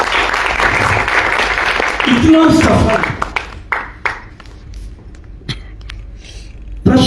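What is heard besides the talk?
audience applause at a theatre master class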